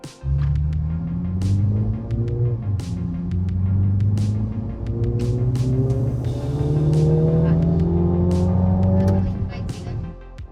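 Mini John Cooper Works accelerating hard, its engine note climbing through several rising gear pulls with sharp shift breaks between them, loud and close.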